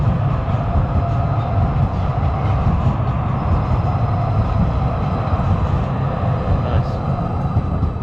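Train rumbling past in Calgary, a steady loud low roar with rolling rail noise held throughout, heard up close outdoors with faint voices beneath.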